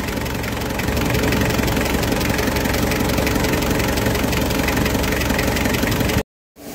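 Fiat Ducato van engine idling after a water pump replacement, a loud, close, steady mechanical rumble with a faint knocking texture that stops abruptly near the end, with no talk.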